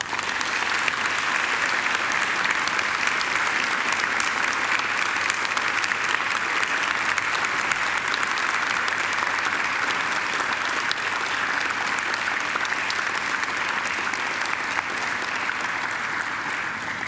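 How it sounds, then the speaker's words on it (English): Graduates at a university graduation ceremony give a long, loud round of applause to their families and friends, dense continuous clapping from a large crowd that holds steady throughout. "And now I invite you to give them a mighty round of applause."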